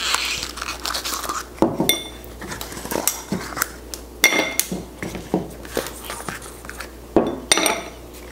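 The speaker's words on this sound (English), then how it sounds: "Give it a stir and serve" Botanical spirit mocktail with sugar cubes stirred in a glass, irregular clinks and scrapes of a spoon against glass with crunchy bumps, loud and close.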